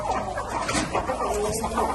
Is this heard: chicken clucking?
yes